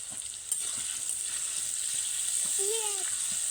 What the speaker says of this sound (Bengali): আলুগুলোকে একদম লালচে লালচে কালার করেই কিন্তু ভেজে নিতে হবে